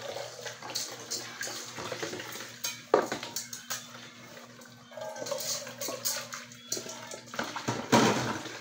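Dishes and utensils clatter as they are set into a dish drainer, with irregular clinks and knocks, some sharp and close, over faint running water.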